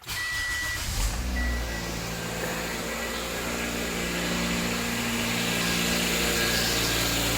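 A 2008 Toyota Corolla engine, fitted with a newly replaced accessory belt, starts up and settles into a steady, close idle hum that runs continuously.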